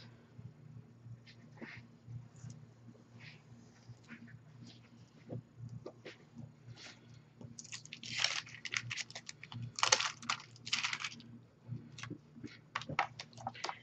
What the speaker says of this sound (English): Just going to cut it with my craft knife.